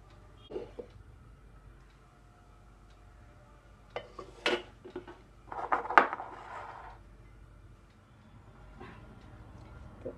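Mutton curry is dished out of a pot with a metal spoon, scattered scraping clanks and clinks of utensil on cookware, a cluster in the middle, set against quiet background hum.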